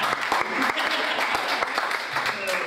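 An opening-night blockchain event audience gives a presenter a round of applause: dense, steady clapping from a crowd, fairly close and continuous throughout.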